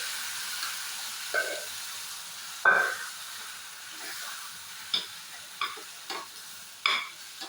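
Cooked kachil (purple yam) is poured into a pan and stirred, giving a faint low sizzle with a series of short scraping stirs and light clinks spread across the stretch, no voices.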